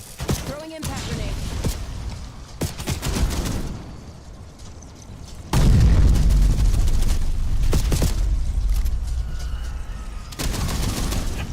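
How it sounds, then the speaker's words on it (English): An impact grenade thrown in a shooter video game goes off among bursts of gunfire and heavy blasts, with a loud sustained rumble partway through and a short voice line in the mix. "Throwing impact grenade."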